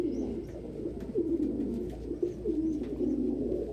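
A young pigeon cock coos repeatedly in soft, low, rolling phrases close by, a steady murmuring run with a few faint higher chirps over it.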